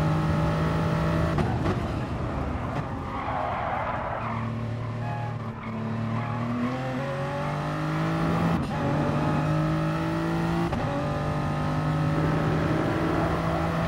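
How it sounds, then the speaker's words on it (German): A Toyota Supra in a racing video game braking and downshifting, its engine note dropping in steps with wastegate flutter and tire noise over a steady engine drone, with no voices. "Das Wastegate immer schön beim Runterbremsen,"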